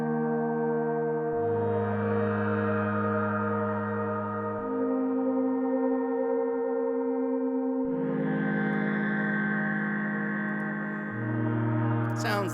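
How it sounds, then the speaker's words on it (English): In VCV Rack, a polyphonic synthesizer patch sustains stacked pitches at once, shifting between long chords every few seconds. The tone is smooth and continuous with no talk over it. "this is a polyphonic patch, meaning we hear multiple pitches playing simultaneously"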